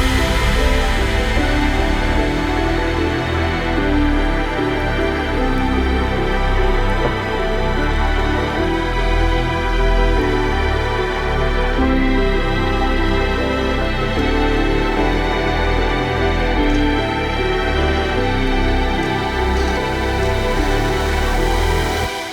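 A dense, loud future bass drop carries a bright synth lead over heavy low end, sustained and continuous with rhythmic pulsing throughout, no voices present.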